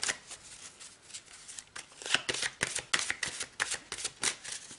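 A deck of tarot cards is shuffled by hand, a dense run of quick riffling flutters and soft slaps, close and fairly loud, with the pace quickening in the second half, alone without talk.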